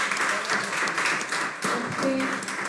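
A church congregation applauds steadily in a large, reverberant room during a sermon, the clapping dipping briefly midway before picking up again, with a voice faintly under it.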